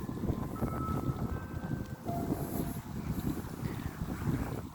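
Steady wind buffeting the microphone outdoors on a rainy spring day among cherry blossoms in South Korea, a continuous low rumbling roar with gusty swells and no voices.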